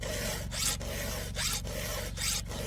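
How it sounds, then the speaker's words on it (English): A hand file sharpening a chainsaw chain rasps in steady back-and-forth strokes, each about a second long, loud and close with no talking. "if you're a professional chainsaw operator, just sharpen just like this"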